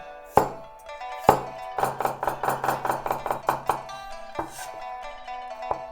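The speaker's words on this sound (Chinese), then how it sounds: "直接切片不好看，所以呢，咱们稍微的给它改成菱形片" A knife slices cucumber into diamond-shaped pieces on a board: a couple of separate cuts, then a quick, even run of crisp chops before two last strokes, over a steady tonal background.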